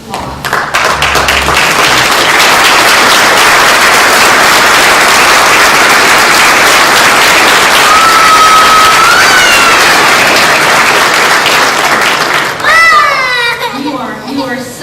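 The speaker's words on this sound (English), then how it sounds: "Let's stand and give them a round of applause." A standing ovation for Teachers of the Year at a Pickens County, Georgia awards banquet, loud continuous clapping and crowd noise from a large room, with cheering and voices rising near the end.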